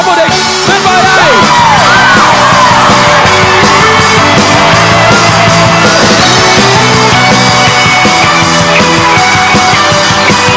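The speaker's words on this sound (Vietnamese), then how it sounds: "Kính mời quý khán giả hãy dành những tràng pháo tay thật nồng nhiệt trong khoảnh khắc đắc quang vô địch tuyệt vời này" Stadium crowd at a Vietnamese football match, Công An Hà Nội against Đông Á Thanh Hóa, cheering and yelling for the champions, with a loud, dense roar that runs without pause and shouts rising above it.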